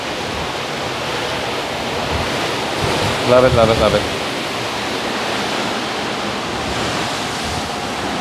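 Steady wind and ocean surf roar across the open deck of the Royal Caribbean cruise ship Navigator of the Seas, continuous and loud, with a voice speaking briefly partway through.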